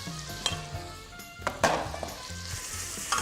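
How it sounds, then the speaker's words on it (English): Onion and bacon frying in melted butter in a pan, a steady loud sizzle with occasional stirring scrapes and clinks, no voices. "So my butter's now melted, so we want to fry off the onion"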